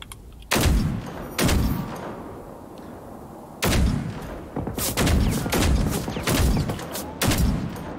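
Gunfire in the video game Generation Zero: loud, close bursts of shots in irregular clusters, some brief single cracks and others longer sustained volleys, with short quieter gaps between them.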